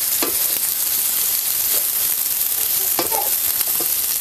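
Eggplant masala with crushed peanut powder sautéing in a pan, a loud steady hiss of frying with several soft stirring scrapes. There is no talking.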